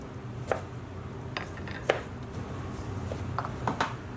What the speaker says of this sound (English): the first thing we're going to do is just cut this into small pieces